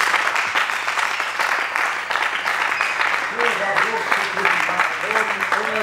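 Church congregation at a celebration service claps and cheers in praise, dense applause mixed with raised voices calling out and acclaiming, loud and continuous.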